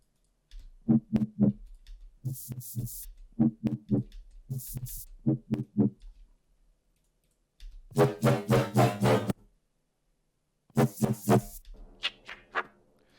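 Punchy synth bass notes pulse in a steady rhythmic pattern, their tone shifting as a band-pass filter sweeps brighter and darker between phrases.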